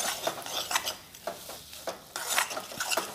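Roasted, ground dry spice masala being stirred into chickpea curry over low heat, rhythmic spoon scrapes against the pan over a faint sizzle, close and with no talk.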